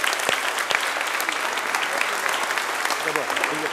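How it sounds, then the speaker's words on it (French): Congregation applauding the choir and altar helpers after a Sunday mass in Vauréal, a dense, even burst of clapping from a large gathering throughout. "On va les applaudir très fort,"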